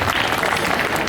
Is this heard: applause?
yes